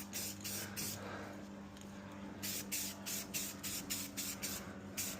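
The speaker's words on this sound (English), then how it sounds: "you're going to want to spray a light coat" Spray paint going on in a light coat over a Toyota Supra headlight, heard as quiet, soft hissing bursts that repeat in short pulses.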